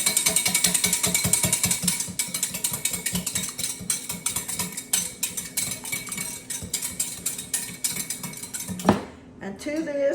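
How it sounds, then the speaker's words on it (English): A single large egg is whisked briskly in a bowl, with fast rhythmic clinking of the whisk against the sides, close and loud, then a final clatter and a short pause. "I'm going to whisk this up. Whisk it up really well."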